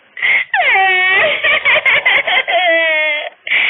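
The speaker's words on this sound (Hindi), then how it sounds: "दूसरे दिन शिल्पा के कमरे से जोर जोर से रोने की आवाज आती है।" A woman wails loudly in an animated Hindi story, long high-pitched crying cries with sobbing breaks, close and dominant with no other sound.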